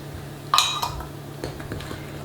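Coconut cookie batter mixed in a bowl, a sharp clink of utensil on the bowl followed by softer scraping and light taps, near and quiet.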